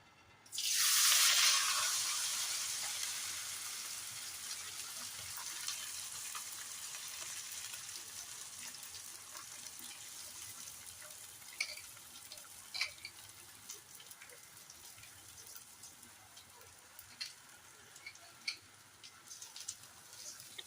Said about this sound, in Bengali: এবার আমি যে পোলাওটাকে মেখেছি, তা এটা আমি এখন কড়াইয়ের মধ্যে দিয়ে দেবো